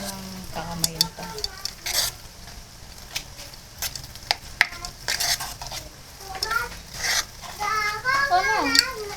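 A healthy homemade burger patty mixture with chunks of carrot fries and is stirred in a pan. It gives a steady sizzle broken by scraping stir strokes, while children talk and chatter nearby throughout.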